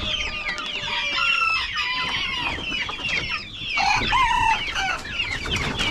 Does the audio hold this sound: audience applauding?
no